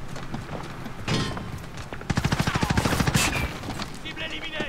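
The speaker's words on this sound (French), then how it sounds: "Merde, on tire derrière en plus." Rapid automatic gunfire in the shooter video game Warzone, a loud burst of evenly spaced shots lasting about a second, with scattered other game sounds and faint voices around it.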